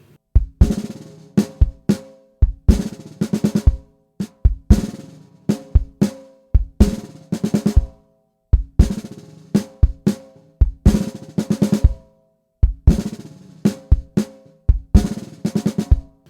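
A mellow worship drum groove plays alone with no voices: steady kick, snare and cymbal hits repeat in even bars, and each phrase closes with four added notes before the pattern starts again.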